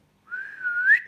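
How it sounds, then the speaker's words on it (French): A person whistles a single short, clear note that slides gently upward, close and alone against silence. "Siffler."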